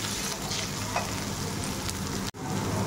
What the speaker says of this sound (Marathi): यामध्ये 1 चमचा आलं लसूणची पेस्ट मी घालते। ही आपण ह्याचा उग्रपणा कमी होईपर्यंत तेलामध्ये परतून घेऊया।